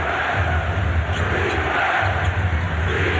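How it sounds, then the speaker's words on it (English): A packed arena crowd roars continuously at a 2008 NBA playoff game between the Orlando Magic and Toronto Raptors, a loud, dense wash of cheering and shouting that swells slightly without pause. "This crowd really into it."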